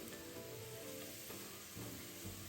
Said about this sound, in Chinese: 倒入预先备好的小红葱片80克，中火油炸至金黄色